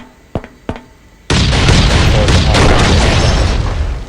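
Explosions from raiding a base in the survival game Last Island of Survival: a few small pops, then a sudden loud blast that holds as a dense roaring rumble for several seconds.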